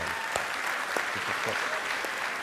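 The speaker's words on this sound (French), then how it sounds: "Applaudissez les couples dans la salle, les gens." A comedy show audience applauds steadily throughout, a dense wash of clapping from many hands at moderate distance.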